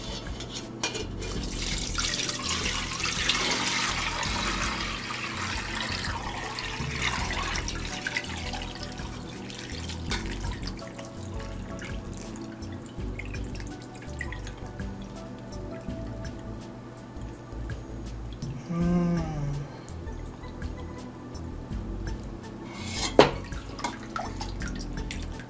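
Ginger drink is poured through a strainer, giving soft, close trickling and wet dripping that fade and pick up again, with a few faint knocks.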